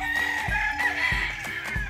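Gamefowl stag roosters at a game farm crow and cluck together, several birds calling over one another in a busy, close chorus with repeated low thumps.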